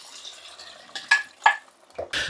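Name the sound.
vegetable stock added to a hot soup pan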